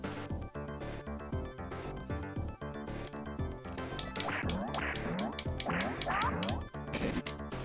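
Squawking bird in the Earthworm Jim video game, repeated harsh quacking calls over busy rhythmic game music and thumping effects, growing denser toward the end.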